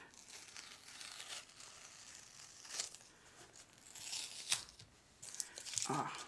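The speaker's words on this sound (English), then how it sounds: "So I'm going to take off these stickers." Stickers peeled off a product: quiet, close bursts of tearing and crinkling that come in irregular spurts, with a louder rip near the end.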